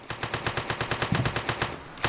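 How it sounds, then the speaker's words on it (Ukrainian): Continuous rapid automatic machine-gun fire in a video game, a steady rhythmic burst of about fifteen shots in two seconds, close and sharp, with no voices. "Мені подобається, як пушка продовжує стріляти, коли він уже, типу, здох."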